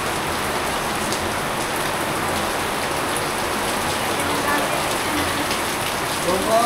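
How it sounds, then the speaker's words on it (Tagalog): Heavy rain pours down steadily in a cemetery, a dense continuous hiss of drops hitting the ground and surfaces, loud and close, with no break throughout. "Lakas ng ulan guys."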